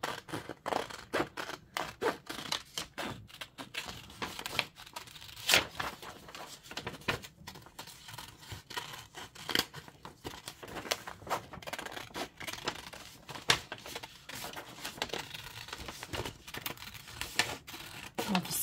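Scissors rough-cut junk mail paper in a steady run of snips and crisp paper rustles, close and fairly quiet, continuing for the whole stretch with no voice over it.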